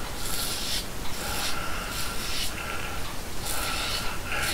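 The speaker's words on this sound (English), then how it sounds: "I sure can hear the razor cutting the whiskers" A Supply single edge razor scrapes through whiskers while shaving a head lathered with Gillette Pure soap, close up: a dense, raspy rubbing with repeated short strokes in an uneven rhythm, and no voices.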